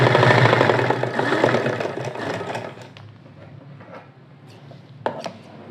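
A sewing machine stitching folded cloth runs with a fast, steady mechanical whir and needle rattle for about three seconds, then stops, leaving quiet handling noise and a couple of soft knocks.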